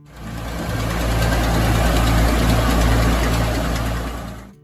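An Allis Chalmers D19 tractor engine runs loud and close, a heavy rumbling drone with a rhythmic knocking pulse that swells in, holds steady and fades at the end, with no voices.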